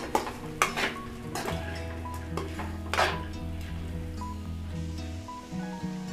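A spoon scrapes and clinks against a pan while raw banana and moong dal fry is stirred, sharp metallic taps at irregular intervals over a soft sizzle, close and fairly quiet.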